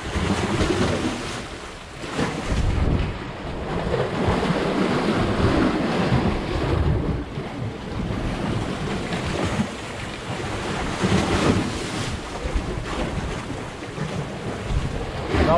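Sea waves breaking and surging around a small fishing boat, with steady wind buffeting the microphone throughout; the wash is loud and continuous, swelling in a few stronger surges, with no talking.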